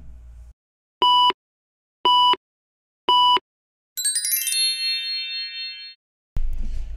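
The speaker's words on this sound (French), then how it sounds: "active la cloche de notification pour que tu sois notifié" Notification bell sound effect: three evenly spaced, bright ding strikes followed by a shimmering chime that fades out, then a brief burst of noise at the end.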